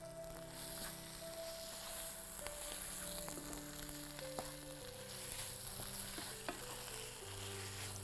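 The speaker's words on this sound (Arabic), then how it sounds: "بعدين هاخده تقليبة" Butternut squash filling with a little sugar being stirred in a hot pan, a steady low sizzle with soft scraping strokes and occasional light clicks of the spoon against the pan, no voices.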